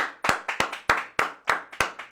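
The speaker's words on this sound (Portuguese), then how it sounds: "Quero pedir aqui uma salva de palmas para minha equipe." A small group claps for a team in several uneven bursts, sharp hand claps close by, each burst fading quickly, with no talking.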